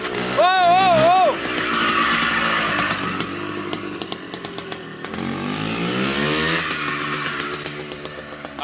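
A 1973 CZ 250 motocross motorcycle with an old rear drum brake revs hard and roars past, its two-stroke engine rising and falling in pitch. People talk excitedly over the engine noise throughout.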